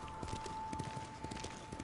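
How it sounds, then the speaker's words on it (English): Horse hooves clip-clop at a steady walking pace in the video game Ghost of Tsushima, a white horse ridden through the open world, the soft repeated hoofbeats sitting fairly faint under a steady game backdrop. "I am on a white horse."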